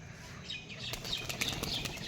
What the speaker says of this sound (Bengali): বন্ধুরা চলো দেখে আসি, পায়রাগুলো ছেড়ে দিই।